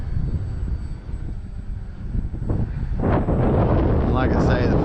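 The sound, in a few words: E-Flite Trojan T-28 RC model airplane slow flyby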